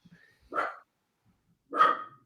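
Two separate dog barks, about a second apart, each sharp and fairly close with silence between them.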